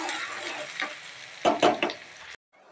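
Finely chopped onions browning in oil, a close bright sizzle broken by a few loud stirs and scrapes of a spoon in the pan before cutting off abruptly.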